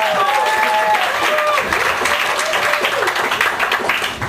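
An audience applauds for author Jim Zubkavich at a book event, a loud sustained round of clapping with crowd voices mixed in throughout.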